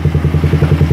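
Suzuki Satria FU motorcycle engine with its camshaft decompressor removed, running loud and close with rapid, evenly spaced firing pulses in a steady throbbing rhythm.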